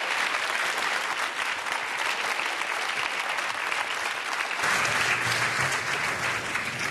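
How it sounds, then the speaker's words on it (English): Audience applause fills a theatre after a performance of Ping Chong and Company's Beyond Sacred: Voices of Muslim Identity, a dense, steady wash of many hands clapping throughout, with no talking over it. "Another round of applause for these guys."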